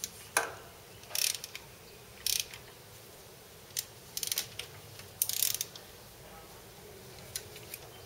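A wrench working a stuck bolt free on a Ford F250 Super Duty 6.8L engine: quiet, irregular ratcheting clicks and short metallic bursts in small clusters, close up against a faint background hiss.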